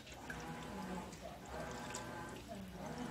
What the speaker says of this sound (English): let's pour the water in